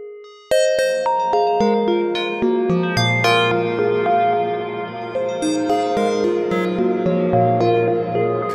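A bright plucked synth melody loops in Bitwig with notes ringing out and blending into a washy, echoing reverb tail that smears each note into the next.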